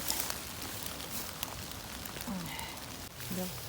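Soft, steady rain patters on a surface in a continuous hiss, with a voice faintly audible now and then.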